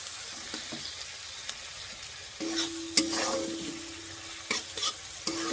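Food sizzles in a pan while a utensil scrapes and stirs egg curry, with a few sharp clinks and occasional louder bursts of frying.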